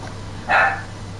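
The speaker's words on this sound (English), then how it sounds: "Dog, what are you barking at, you dummy?" A single short dog bark rings out close by in an indoor room, one sharp burst standing alone over a low steady background hum.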